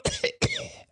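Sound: cough

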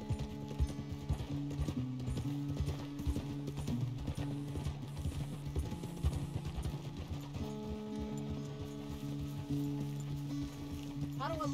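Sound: horse hooves clip-clop in the video game Red Dead Redemption

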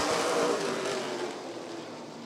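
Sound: NASCAR late model race cars accelerating at green flag

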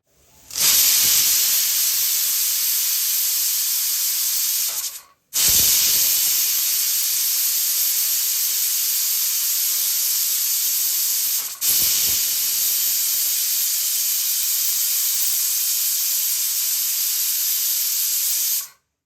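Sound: pressure cooker releasing steam

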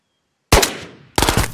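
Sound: enemy gunfire, from the video game Ghosts of Tabor

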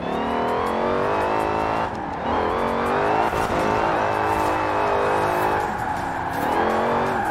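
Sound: Dodge Charger R/T engine in Forza Horizon 4 video game

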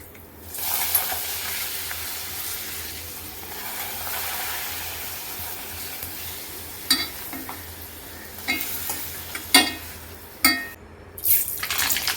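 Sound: pappadam frying in coconut oil

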